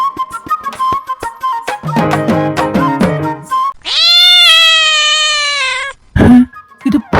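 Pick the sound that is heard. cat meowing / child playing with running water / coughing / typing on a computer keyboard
cat meowing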